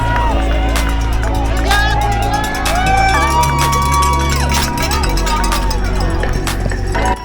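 Spectators cheer and shout along a marathon route at Walt Disney World, a loud, close and steady crowd roar with whoops, children's shouts and overlapping chatter.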